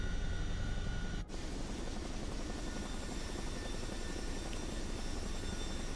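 Chinook tandem-rotor helicopter in the video game Microsoft Flight Simulator 2024, a constant loud rumbling rotor and engine drone that fills the whole stretch with a brief dip near the start.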